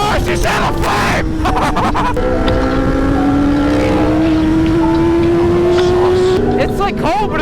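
A Yamaha R1 sport motorcycle engine running loud and close, its revving drone climbing steadily, with people talking and exclaiming over it.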